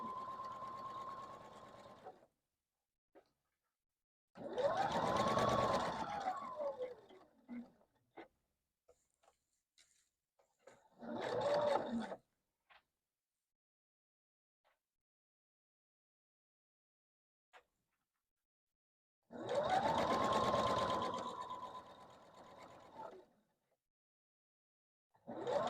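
A sewing machine stitches pieces of fabric, with edges lined up as the seam is sewn, in three separate runs of steady whirring, each a couple of seconds long, close by, with near silence between them.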